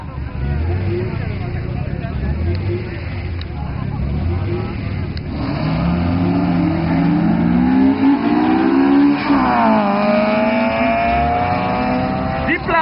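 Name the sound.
race cars, including a Honda CRX, racing side by side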